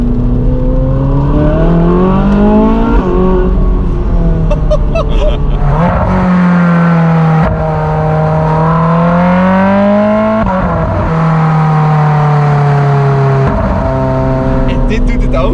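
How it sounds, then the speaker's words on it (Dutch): Naturally aspirated Ferrari 458 V8 engine revving loudly while driving, pitch climbing and falling through several gear changes with sharp drops at shifts, a constant close, roaring drone throughout. "Er gaat niks boven het geluid van een atmosferische Ferrari."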